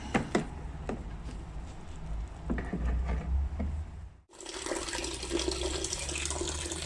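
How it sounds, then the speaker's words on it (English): Hot wort from a brew kettle pours into a fermenter after a whirlpool hop stand, a steady splashing flow of liquid with occasional knocks, growing brighter and fuller partway through as the stream changes. "we've finished the whirlpool hop stand and we're just transferring it into the fermenter here"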